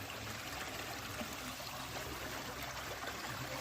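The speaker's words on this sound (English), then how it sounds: "Next to the running water, the creek." A creek runs through a small valley on a backpacking hike, its water trickling and burbling close by in a soft, continuous wash without voices.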